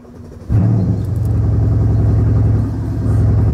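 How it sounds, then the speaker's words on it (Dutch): A car engine cold-starts with a brief crank, then catches and settles into a loud, steady low idle rumble that keeps running close by, slightly rising toward the end. "Koude start."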